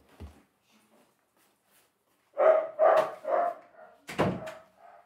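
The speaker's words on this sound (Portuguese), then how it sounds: "Aguentar esses cachorros hoje." Dogs bark in a short burst of four or five close, fairly loud barks after a quiet stretch, with one more sharp bark following a brief pause.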